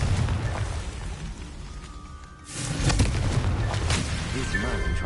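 The Confringo explosion spell goes off in the Hogwarts Legacy video game, a dull booming burst midway through, amid game sound and effects.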